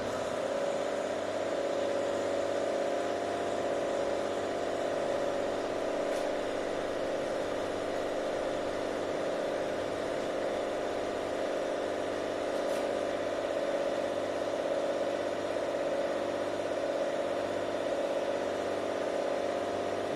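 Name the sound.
tensile testing machine applying load to a mild steel bar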